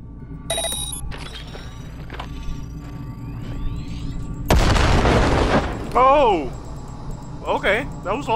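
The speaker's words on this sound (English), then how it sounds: "Now, detonate the grenade." A grenade blows up in the video game Cyberpunk 2077, one heavy boom with a brief roaring burst. Chirping electronic game sounds and short beeps come before and after it.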